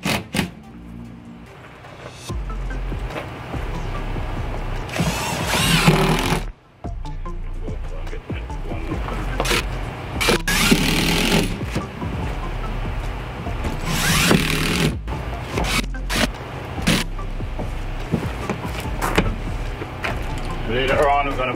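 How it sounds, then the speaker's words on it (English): Power drill driving screws into cement board during a wall install for stone veneer and stucco, heard as repeated whirring bursts of several seconds each, close by, with a voice talking around them. "Just want to screw them in place 8 inches apart."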